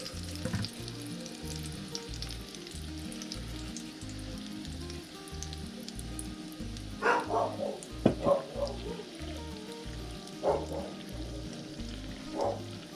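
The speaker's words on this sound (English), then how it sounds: "Pour your batter in and look at it sizzle." Cornbread batter sizzles loudly in a hot skillet greased with bacon fat, a dense steady frying hiss, while a dog barks a few times in the background.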